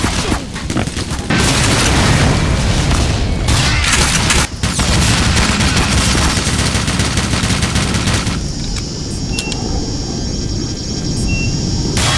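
Heavy gunfire in the Black Mesa video game, loud dense bursts and booms running almost continuously, with sniper fire amid the barrage.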